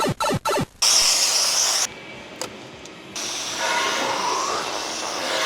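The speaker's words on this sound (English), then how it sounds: "we bought ourselves a cartridge steam cleaner" Sharp bursts of steam from a cartridge steam cleaner hiss in quick pulses, then a long loud jet of spray, followed by quieter steady hissing that swells again near the end.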